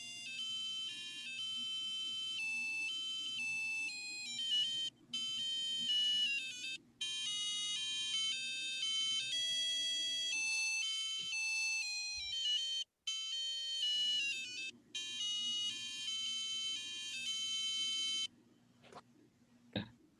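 A melody rings out as shrill electronic beeping tones from a small device, steady and bright with a few short gaps, over a low hum and faint rustling.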